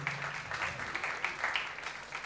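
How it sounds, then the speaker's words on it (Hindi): An audience at a university felicitation ceremony gives a round of applause for a medal presentation, a thin, distant patter of clapping that holds steady with a voice heard faintly underneath. "एक बार जोरदार तालियां हो जाएं"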